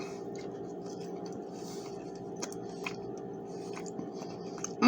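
Someone chews a freshly fried corn fritter studded with corn kernels and onion; soft, close, irregular crunchy bites sit faintly over a steady low background hum, with no talking.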